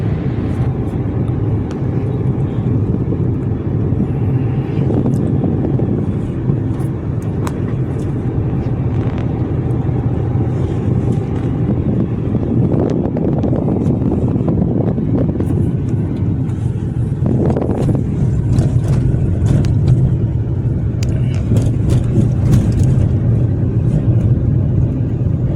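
A Renault Kwid driving on a badly damaged road: a continuous low engine and road rumble heard from inside the car, with scattered knocks and rattles as the car jolts over rough patches.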